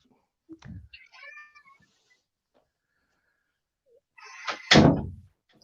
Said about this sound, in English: I'm just going to let the cat out.